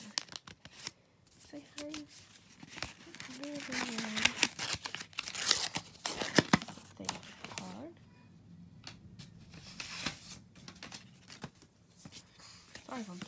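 Paper card lifted and handled from a silicone mini doll box, crinkling and rustling in bursts under soft nearby talk, with a few sharper rustles midway.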